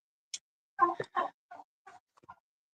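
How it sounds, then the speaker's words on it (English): Several short chicken calls in a sequence of clucks and gobbling squawks from a coop, fairly close, with brief pauses between them and no talking. "all the chickens were out here in the chicken coop"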